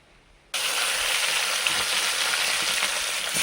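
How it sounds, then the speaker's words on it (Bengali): Fish hits hot white oil and erupts into a sudden loud, broad sizzle that holds steady and close after a quiet half-second start, with no voices. "আগে ভেজে তুলে নেব মাছগুলোকে"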